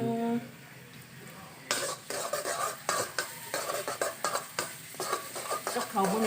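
Vegetables stir-frying in oyster sauce, a steady sizzle with repeated scraping and clinking of a utensil against the pan in an uneven rhythm, close by.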